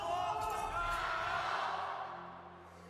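A crowd at a League of Legends esports match in Xi'an, a broad distant roar of cheering voices that gradually fades toward the end.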